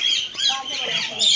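A bird at Bannerghatta zoo in Bangalore calls with a thin, high, wavering note against soft background noise, fairly faint and brief.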